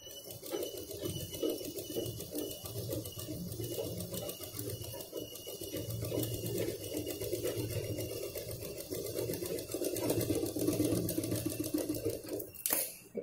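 A sewing machine runs a long steady stitching line across fabric, a fast close mechanical chatter that holds for most of the stretch, with a brief clack near the end.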